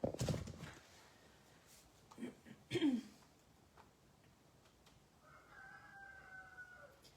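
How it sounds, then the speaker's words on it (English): Backyard chickens cluck and a rooster crows in short, faint bursts over quiet room noise, with a sustained tonal call near the end. "Chickens are happy today."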